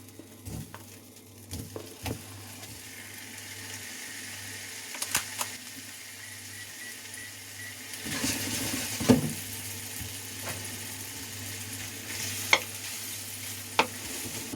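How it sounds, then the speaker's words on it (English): Saikoro steak cubes frying in butter in a pan, a quiet sizzle with occasional clicks and knocks that swells into louder frying partway through, heard up close without talking. "Next, we put in our Saikoro steak. Just dump it all in here, why not?"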